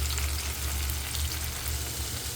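Ham sizzles steadily in a hot pan with onion and tomato, a continuous loud frying hiss with low crackle throughout, no voices.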